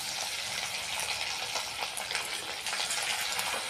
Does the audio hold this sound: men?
no